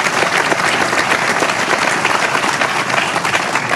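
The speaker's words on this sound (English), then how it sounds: "And listen to all the claps." Dense, steady applause from a large audience, loud and continuous throughout with many overlapping hand claps and no break.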